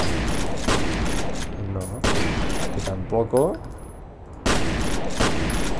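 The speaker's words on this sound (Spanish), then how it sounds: "Voy a dispararle a cosas a ver qué pasa." Gunfire from shooting at objects in the video game F.E.A.R., loud sharp shots in clustered bursts separated by short pauses, with someone speaking briefly between them.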